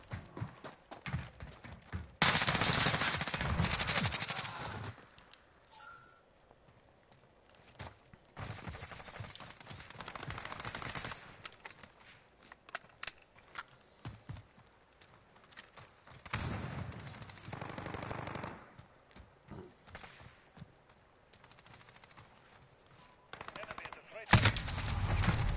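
Video game gunfire crackles in bursts of rapid shots over a busy, faint game soundscape, with a louder burst near the end.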